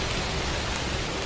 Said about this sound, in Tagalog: Saglit pa lang umuulan.